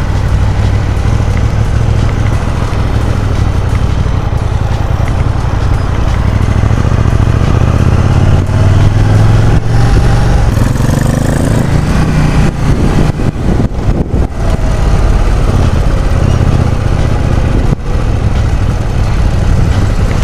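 A KTM 790 Duke motorcycle engine under way on a test ride, a steady loud low-pitched drone with rising and falling revs and wind rush, continuous throughout and close.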